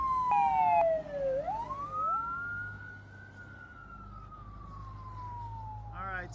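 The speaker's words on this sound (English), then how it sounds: "The helicopters came, sirens were going all over the place." Emergency vehicle sirens wail during a wildfire in the Hollywood Hills, with two overlapping tones sweeping up and down, then one long rising and slowly falling wail over distant traffic rumble.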